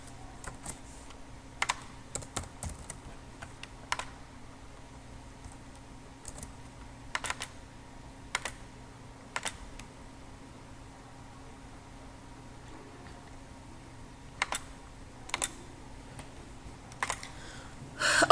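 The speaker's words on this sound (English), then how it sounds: "How to type this equation?" Typing on a computer keyboard while entering an equation in Microsoft Access: scattered bursts of sharp key clicks with pauses between them, close and fairly quiet over faint background hum.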